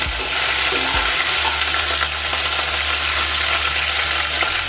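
Urad dal, a broken chilli and curry leaves crackle in hot oil for a peanut chutney tempering, a steady dense sizzle with a low hum underneath and no voices.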